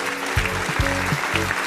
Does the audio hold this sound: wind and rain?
no